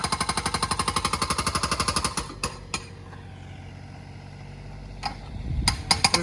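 Jackhammer breaking up a concrete layer during a garage and shop build, hammering in a fast steady rhythm for about two seconds, then stopping, with a few scattered knocks and thuds afterward.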